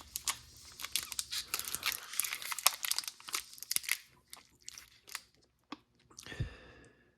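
Someone eats a ration snack bar in crinkly packaging, with irregular crunching, wrapper crumpling and chewing bursts close by, growing sparser and ending in a short scrape.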